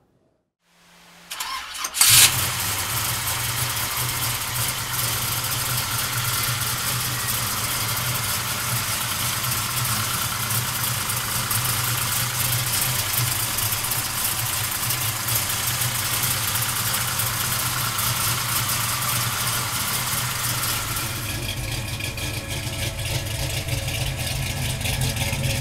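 A 1969 Chevrolet Chevelle with a 572 engine under a cowl hood cranks and fires after a brief silence, then settles into a loud, steady, close idle that continues without letup, with a slight shift in tone near the end.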